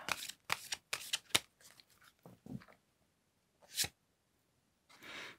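Tarot cards shuffled and drawn by hand, a run of quick crisp riffling bursts followed by a pause, then a single sharp flick and a softer final shuffle, close and alone.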